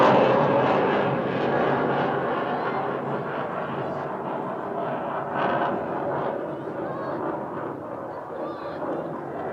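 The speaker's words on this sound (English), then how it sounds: "As you can hear, the planes are going over right now from our local military." Military planes pass overhead during a youth soccer match at Sportsplex Stadium, a loud broad engine roar that fills the whole stretch and slowly eases as they fly on.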